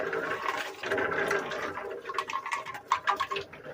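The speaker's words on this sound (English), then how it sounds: "Put the nuts in there and just going to let them rotate around for a while." Walnuts tumble with water inside a rotating cement mixer, giving a steady wet sloshing churn with irregular knocks and splashes that grow choppier toward the end.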